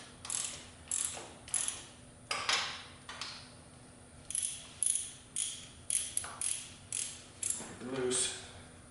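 A hand ratchet tightens bolts while a Victory cam is fitted to a 106 engine, clicking in short, close, repeated bursts that form an uneven series of cranking strokes with brief pauses between them.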